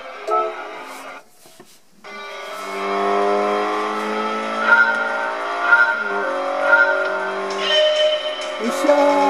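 A Toyota 86 GT racing in the Gran Turismo video game on PlayStation 4, loud engine revving and accelerating through rising gear pulls, with tire squeal and brief gaps between shifts, and a voice briefly heard.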